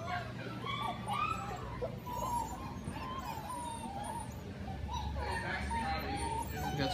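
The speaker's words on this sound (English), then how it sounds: "The little black and red puppies are Aspen by Nyler puppies" Young black-and-red and dark sable German Shepherd puppies bred for personal protection yip, whimper and bark in a busy, continuous jumble, with people talking over the noise throughout.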